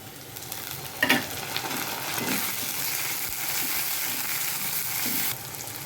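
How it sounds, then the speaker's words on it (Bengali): Chopped tomato is added to onion and chopped green chilli frying in oil. A steady, close sizzle runs throughout with a few clacks of stirring, and it cuts off near the end. "এরপর দিচ্ছি টমেটো কুচি।"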